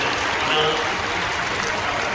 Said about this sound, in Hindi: एक बार जोरदार ताली बजाते हुए सबका अभिनंदन